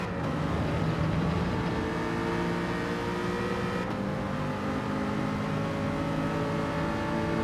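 A race car engine in Gran Turismo 7 drones steadily and loudly throughout, a continuous high-revving tone with harmonic whine holding near-constant level, no talk.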